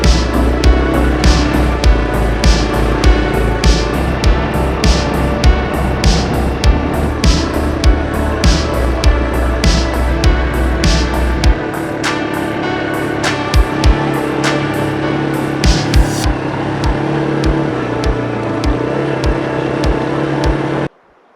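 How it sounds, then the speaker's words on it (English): A Yamaha TW200 dual-sport motorcycle on a single-track trail, its engine thrumming steadily, then easing off partway through as bumps and rattles continue until an abrupt stop. "I'm going to hop on my bike and we'll get a little single track action going on"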